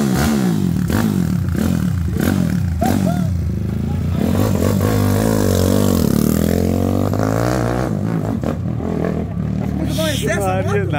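A 150 cc piston Honda Hornet motorcycle engine that had been sitting in storage turns over and runs with a rough, steady roar, close and loud, while people talk over it throughout.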